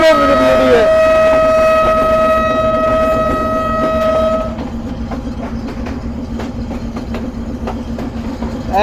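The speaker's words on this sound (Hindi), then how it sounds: "फॉग में चल रही है हमारी ट्रेन" A passenger train runs through heavy fog in extreme winter near Mohenjo-daro, a sustained horn blast over the rumble, then steady clickety-clack and rolling wheel noise, close and loud.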